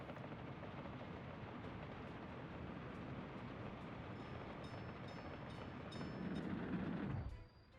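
Train rolling along a rail line in Workers & Resources: Soviet Republic, a continuous low rumbling drone that swells louder near the end before cutting off abruptly.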